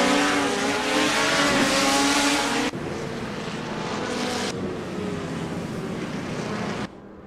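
Race car engines in the Assetto Corsa sim racing game, GT Legends cars at Imola running behind a safety car, a steady loud drone that shifts in abrupt cuts between car sounds, with no voices.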